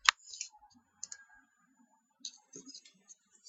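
Computer mouse clicks while installing WordPress: a sharp click at the very start and another around one second, faint and close, with quiet gaps and small soft handling noises between them.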